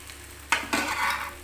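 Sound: okra sautéing in a pan

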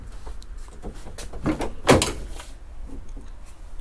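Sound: car doors opening on a 1996 Chevy Impala

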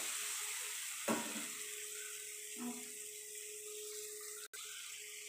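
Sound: frying green chillies and chopped onions

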